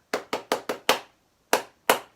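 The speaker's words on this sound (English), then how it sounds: "So let's give ourselves a clap." A small group clapping hands after a morning practice session: five quick close claps in a row, a pause, then two more single claps, crisp and near.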